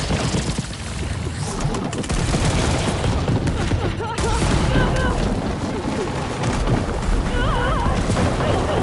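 Gunfire in the Horizon Forbidden West video game, dense loud bursts and booms of combat sound layered with game effects throughout.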